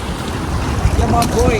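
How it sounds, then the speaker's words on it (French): Seaside waves surging against the shore of Corsica, a steady broad wash close to the microphone with wind buffeting underneath and faint voices nearby. "On finit à la mer avec les vagues."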